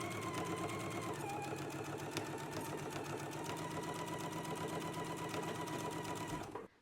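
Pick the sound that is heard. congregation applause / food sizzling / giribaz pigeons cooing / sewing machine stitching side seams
sewing machine stitching side seams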